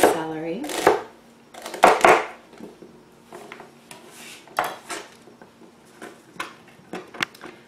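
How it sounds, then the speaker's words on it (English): A knife chops whole celery stalks on a cutting board for soup, giving a run of sharp, close taps in uneven bursts, loud at first and then lighter and more scattered. "You can keep the knife point on your board and just move in the celery."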